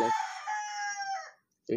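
A rooster crows once in the background of a home math lesson, a long clear call trailing off before a short sound at the end.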